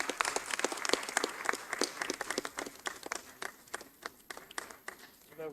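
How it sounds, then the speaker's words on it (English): Scattered audience clapping at an academic research symposium, a sparse, uneven patter of individual claps at moderate distance that grows thinner and more irregular toward the end, with faint voices beneath. "A big round of applause again."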